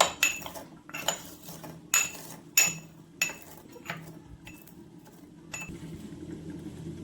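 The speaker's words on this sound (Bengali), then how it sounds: "ভাজা মশলাটা হামানদিস্তায় একটু গুঁড়ো করে নিচ্ছি।" Dry-roasted coriander and cumin pounded in a mortar and pestle, a run of sharp, ringing metallic strikes at an uneven rhythm, loud and close at first, then softer and sparser taps.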